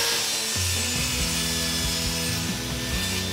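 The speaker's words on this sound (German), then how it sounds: "Danach stellen wir den Queranschlag auf 45 Grad ein und schneiden uns die Gärung." Parkside PTKS 2000 G5 table saw making a 45-degree miter cut through wood: a steady close, loud motor whine with the blade's grinding bite through the board and shifting tone as the cut progresses, no voices.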